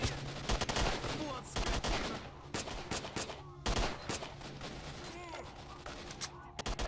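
Gunfire in the video game STALKER: Shadow of Chernobyl, repeated rapid shots and bursts crackling over a noisy battle scene, with a voice speaking.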